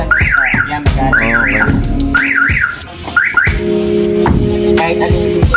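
Car alarm on a Nissan NV350 van wails in loud repeating rising-falling siren bursts, broken by short pauses and alternating with steady chirping tone patterns, alone with no talk.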